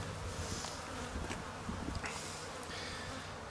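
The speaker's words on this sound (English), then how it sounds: "And this is the hive of carniolans. Yeah, they're upset." Carniolan honey bees at a troubled hive entrance buzz in a steady, dense drone, agitated and close, with no talking over it.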